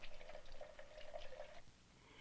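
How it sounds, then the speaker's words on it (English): Warm water running from a tap over the metal lid of a paint jar in a school classroom, a quiet steady trickle and splash that thins out and stops near the end. "Running warm water over the top was something Joan had learned from her mother."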